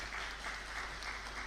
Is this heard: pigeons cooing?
no